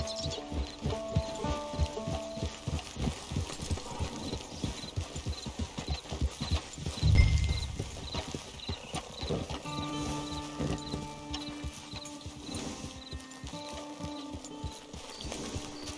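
Rhythmic horse hoofbeats clip-clop steadily at a walking pace in Red Dead Redemption 2 Online, mixed with game music and ambient tones, with a brief low thump midway.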